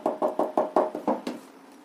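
A hand raps on a house door in a quick series of seven firm, evenly spaced knocks, close and loud, then silence.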